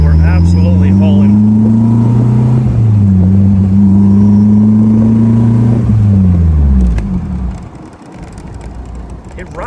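A 1953 MG TF fitted with an S2000 engine pulls hard, its loud close engine note rising through the gears with a brief dip at a shift, then fading as it eases off near the end.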